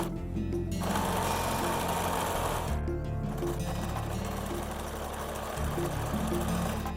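A sewing machine stitches a turned fabric hem in fast, continuous bursts, stopping briefly and starting again, close and loud with no voices.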